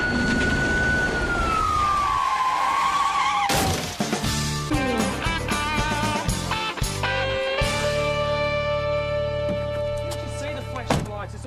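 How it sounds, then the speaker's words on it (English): A police car siren wails loud and near, its pitch sliding downward before it breaks into clattering, busy traffic and background sounds at an Australian intersection. "I had the siren and I don't put on for fun"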